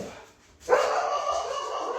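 A frightened, upset pet dog barks at a neighbor outside, with a sudden loud onset about two-thirds of a second in, then sustained, fairly close noisy sound that holds steady to the end.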